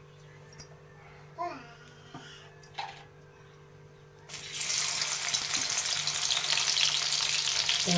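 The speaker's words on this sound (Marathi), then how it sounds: "लसूण टाकून घेते तेल गरम झालंय" Garlic dropped into hot oil for a village-style kardai leaf curry bursts into a loud, continuous sizzle partway through, after a few quiet clinks and handling sounds.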